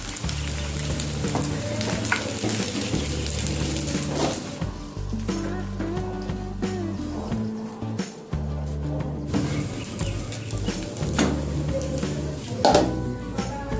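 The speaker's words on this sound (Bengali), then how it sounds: "চিকেনটা আমি লাল লাল করে ভেজে নিয়েছি।" Chicken pieces frying in hot oil until reddish-brown for an Indian-style chicken curry, giving a steady, close sizzle that runs the whole way with tonal background music layered over it.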